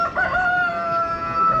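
Hungry hens at a small forest cabin give a drawn-out, tonal clucking call, close and fairly loud, lasting the whole short moment.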